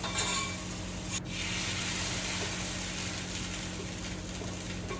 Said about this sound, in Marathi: फोडणी.